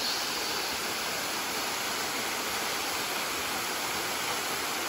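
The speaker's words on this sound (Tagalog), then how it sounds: "Oh, the falls." Bugtong Bato Falls, a waterfall in Antique, pours as a dense, continuous rushing roar of falling water, steady and close with no other sounds.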